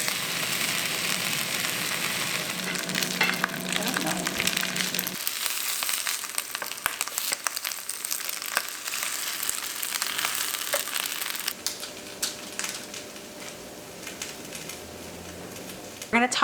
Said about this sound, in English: we're gonna add a small amount of olive oil and pan fry it on medium heat or until the outside is crispy and golden brown